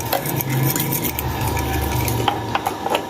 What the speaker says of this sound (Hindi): अब इसको अच्छी तरह मिक्स करेंगे